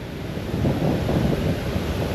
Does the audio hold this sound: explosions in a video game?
no